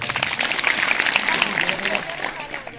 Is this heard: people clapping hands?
yes